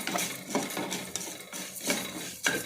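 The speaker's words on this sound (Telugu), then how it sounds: "స్టవ్ మీద పోపు ఎగుతుంది" A spoon scrapes and clinks repeatedly in a pan on the stove as a tempering for gongura-sesame chutney is stirred, giving close, rhythmic scraping strokes with a faint sizzle underneath.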